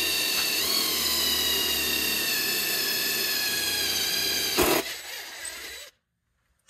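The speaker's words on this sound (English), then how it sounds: "The center hole I'm gonna drill all the way through with the 3/8 inch drill bit" A power drill with a 3/8-inch bit whines loudly and steadily as it bores a hole all the way through, with a brief burst near the end before it winds down and stops.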